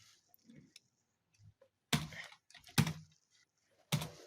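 Keyboard keys typed while adding text in Adobe Photoshop, a few scattered soft clicks followed by three loud, sharp keystrokes, likely Enter presses, close up in a quiet room.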